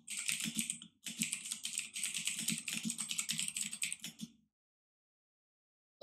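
Rapid, continuous clatter of keys on a computer keyboard, close and clear, with a brief pause after the first second before the typing resumes and then stops.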